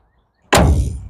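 The back door of a 1966 Chevrolet Impala is slammed shut: one sudden, loud, close thunk out of near silence, with a short ringing tail as it fades.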